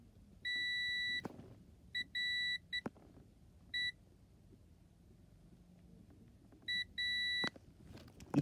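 A digital multimeter in continuity mode gives sharp electronic beeps while its probes touch during a circuit board check, sounding as a long tone, several short bursts and a final pair of tones over quiet background.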